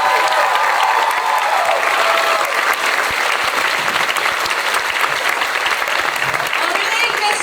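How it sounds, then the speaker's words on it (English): Loud, sustained applause from a large theatre audience after a show, dense clapping that stays strong throughout, with some voices mixed into the crowd. "So give them a big round of applause."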